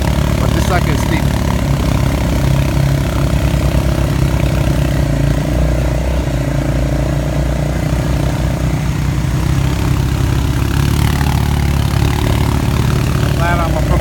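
An ATV engine labors up a steep mountain road in Jaco, Costa Rica, holding a steady, close, mid-pitched drone that runs unbroken for the whole stretch.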